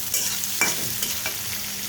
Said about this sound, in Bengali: তার সাথে দিয়ে দিচ্ছি আমি রসুন কুচি। এই সব কিছু ভালো করে নেড়ে নিব।